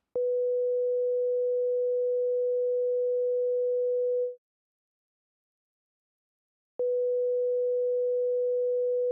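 Pure sine wave test tone, a steady single pitch held loud for about four seconds, then silence, then the same tone starting again and continuing.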